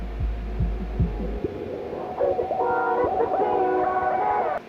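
A low-pass filtered, muffled excerpt of an electronic song, with a soft, throbbing low pulse that gives way to a sustained, layered melodic passage.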